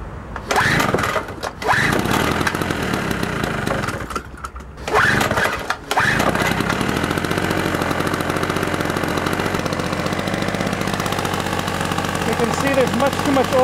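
A biogas-fueled generator engine, overfilled with oil and smoking, runs loud and steady nearby, starting with a few sputtering bursts and brief cutouts before settling into a continuous rough drone.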